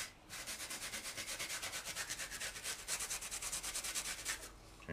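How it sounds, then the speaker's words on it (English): Sandpaper is rubbed over a sectional wargame terrain road piece in quick, even back-and-forth strokes. The scratchy rasping is close and fairly quiet, keeps a steady rhythm for about four seconds, and no one talks. "if you want your road to be a little bit, traveled on, you can use sandpaper"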